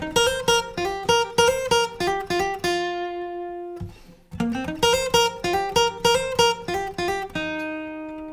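A clean electric guitar plays a guitar solo: quick plucked melodic phrases with sustained held notes, a short pause, then the phrase repeats, up close and alone.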